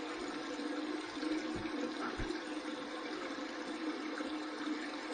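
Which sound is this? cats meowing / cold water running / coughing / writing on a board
cold water running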